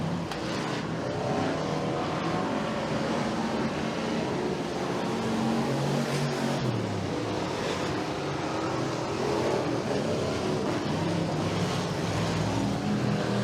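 Hobby stock race cars roar around the oval at Bradford Speedway in a continuous, loud engine drone, the pack's note swelling and fading slightly as cars come off turn two and down the back straightaway.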